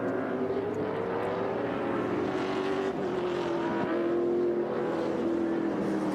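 Vintage NASCAR stock cars racing at Circuit of the Americas, a field of about twenty, roar loudly and continuously, engine drones rising and falling as the pack passes.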